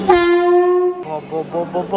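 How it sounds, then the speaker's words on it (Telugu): A Vande Bharat Express train at a station platform sounds one long, loud, steady horn blast that cuts off sharply, followed by a few shorter toots mixed with nearby voices. "ఒక్క సెకండ్ భయపెట్టాడు హారన్ కొట్టి"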